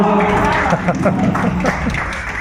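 A short burst of audience clapping at a Hindi poetry recital gathering, close and loud, mixed with crowd murmur and voices over about two seconds.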